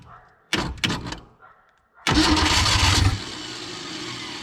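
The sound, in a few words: 1961 Willys Jeep engine cranking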